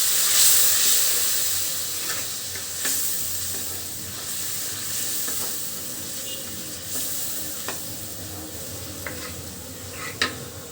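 Masala for katla fish head bhuna sautés in a pan with a soft continuous sizzle, broken by repeated scraping stirs and occasional sharper clinks of the spoon, with no talking.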